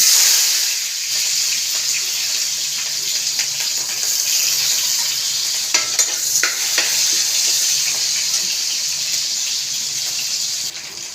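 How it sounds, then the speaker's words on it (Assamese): Loud, steady sizzling of onions and chilies frying in hot oil in a kadai, a continuous crackling hiss with occasional stirring scrapes, close up. "এতিয়া মই পিঁয়াজ আৰু জলকীয়াখিনি দি দিম।"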